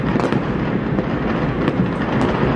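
Continuous dense crackling and booming of New Year's midnight fireworks over Makati, Manila, with sharp bursts popping throughout over a steady rumble, loud and close.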